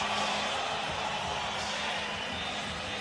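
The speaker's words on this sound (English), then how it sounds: "Look at him now, just taking the applause." Boxing arena crowd applauding Joe Calzaghe, a dense, steady roar of clapping and cheering that fills the whole stretch at an even level.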